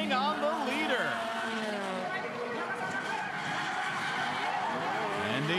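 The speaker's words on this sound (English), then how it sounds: "And they drift." Race cars in a D1 Street Legal drift competition at Maze, with engines revving and tires squealing and skidding through a drift, loud and continuous as a commentator talks over it.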